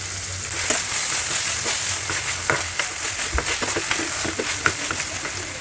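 Chopped tomato hitting hot oil in a pan, a steady close sizzle of frying with scattered crackles and pops, no voices.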